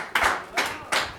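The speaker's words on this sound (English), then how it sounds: "So please, a round of applause for her." A classroom gives a round of applause for a student, heard as three distinct close claps in a short, even rhythm.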